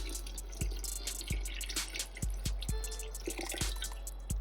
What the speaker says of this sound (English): this is 2 quarts of shrimp stock. Go ahead and pour that in there nice and slow.